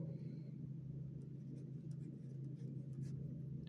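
Pen or chalk strokes on paper or board during a Class 8 Hindi-medium math lesson on solid figures: faint, scattered scratchy strokes over a steady low electrical hum and a constant rumble.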